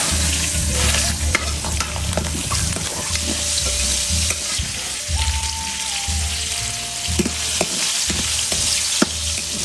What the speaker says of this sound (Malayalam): ആദ്യം കുറച്ച് ഉള്ളി വറുക്കാം.